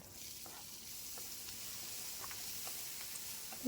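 Raw vegetables for flattened-rice pulao fry in a partly covered pan on low heat, giving a steady soft sizzle with faint scattered pops throughout, close by and with no voices.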